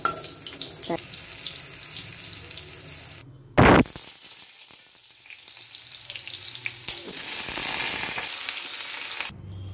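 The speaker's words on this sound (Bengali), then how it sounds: "আলু একটু পটল নিয়েছি, এগুলো একটু ভেজে নিচ্ছি।" Potato and pointed gourd pieces fry in oil for a prawn curry, with a steady sizzle, a sudden loud burst partway through and brief water-like hiss passages near the end.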